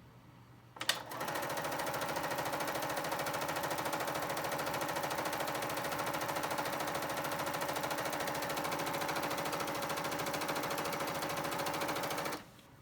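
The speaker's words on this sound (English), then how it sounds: "We're going to go ahead and run a reverse cycle mending stitch," A Bernina 880 sewing machine runs a reverse-cycle honeycomb mending stitch, starting with a sharp click and then a steady, loud mechanical chatter that keeps an even rapid rhythm for about eleven seconds before stopping abruptly.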